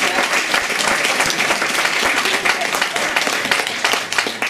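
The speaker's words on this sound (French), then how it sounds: "Eh bien on peut les applaudir vraiment beaucoup." Audience at a golden, diamond and platinum wedding anniversary celebration applauding steadily, dense continuous clapping from a full room with a few voices mixed in.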